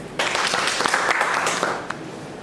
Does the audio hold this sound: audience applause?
yes